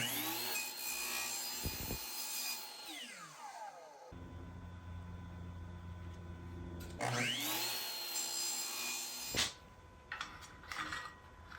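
A miter saw fitted with a zero-clearance fence cutting wood: motor spins up with a rising whine, bites through the board with a rough rasp, then winds down, repeated twice, close and clear with no talk.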